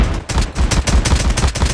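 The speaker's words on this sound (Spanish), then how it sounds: "Abriendo fuego a discreción." Rapid, loud AK-47 bursts in Call of Duty Mobile, repeated automatic fire in quick clusters with brief gaps, close and dominant with no voices over it.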